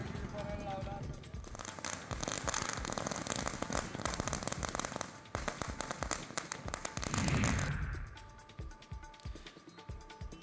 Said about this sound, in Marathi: फटाक्यांच्या आतषबाजीत एकमेकांना पेढे भरवत आनंद व्यक्त केला.